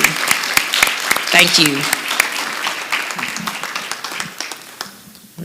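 Audience applause fills a city council meeting chamber, a dense steady clapping that runs the whole stretch and tapers near the end, while a voice speaks briefly over it.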